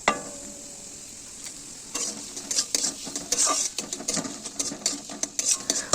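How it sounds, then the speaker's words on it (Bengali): Chopped onions stirred in a pan with chilli over the heat: repeated metal spoon scrapes and clinks against the pan over a soft sizzle, starting after a quiet opening and continuing closely and briskly. "ভালো করে পেঁয়াজটা নাড়াচাড়া করে নেওয়ার পর"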